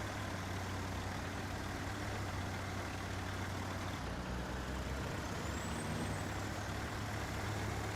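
A heavy truck engine in an off-road mudding and climbing video game drones steadily at low pitch for the whole stretch, a constant loud rumble with no talk over it.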